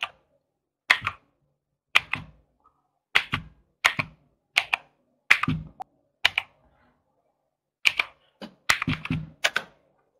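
Quiet, sparse keystrokes on a computer keyboard come in short clattering bursts with pauses between them, alone in a silent room.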